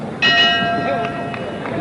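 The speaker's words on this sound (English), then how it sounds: "And there's the bell." A boxing ring bell rings out to end the first round of a Muhammad Ali era heavyweight bout involving Jimmy Ellis, one clear struck tone with ringing overtones rising over a noisy arena crowd, then decaying.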